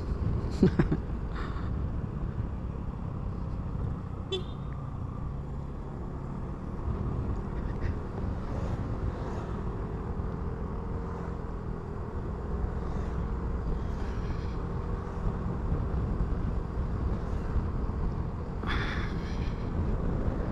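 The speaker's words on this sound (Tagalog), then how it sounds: "Mahangin niya. Lakas ng hangin." Steady roaring wind buffeting the microphone on a moving Yamaha Mio 125 motorcycle at night on a highway, a constant rush with the engine droning underneath.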